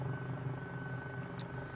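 A video game helicopter drones steadily with a dense, continuous rotor and engine rumble, loud and unbroken throughout with no voices.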